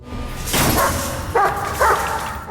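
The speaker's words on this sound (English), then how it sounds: "a dog startles him out of his rumination" A dog barks at night, several sharp yips and barks in quick succession, fairly close and clear against a quiet background.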